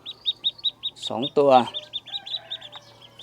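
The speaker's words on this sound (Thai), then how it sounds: "วันนี้เราจะมาดู การพัฒนาการของลูกเป็ดอี้เหลืองวันนี้ฟักออกมา" Newly hatched Yi Liang yellow ducklings peep in a steady, evenly spaced series of thin, high chirps close by. A voice briefly speaks over them partway through.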